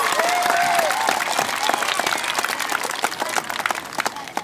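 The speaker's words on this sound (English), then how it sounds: "Let's give them one more round of applause for their funny jokes" A school audience at an Arbor Day event applauds third graders after their jokes. The dense, close clapping starts with a brief high whistle and slowly thins into scattered individual claps toward the end.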